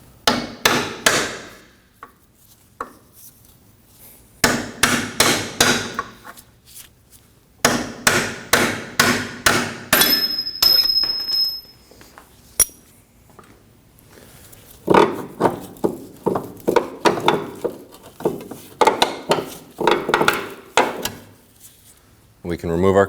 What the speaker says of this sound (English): Just going to use a punch that's smaller than the end